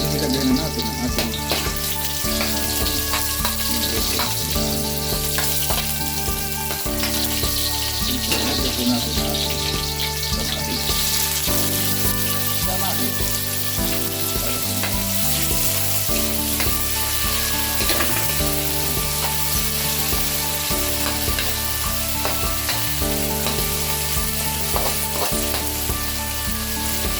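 Garlic, onion and tomato sauté in a pan with a constant, even sizzle that runs the whole time, mixed under steady background music.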